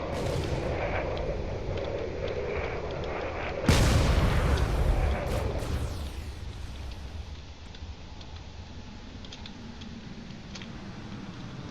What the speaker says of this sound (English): they're still firing away, trying to do whatever it can to both this battleship and the nearby frigates